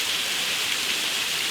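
A waterfall running full after three days of solid rain at a winter wild camp gives a steady, dense rushing roar close by, with no voices.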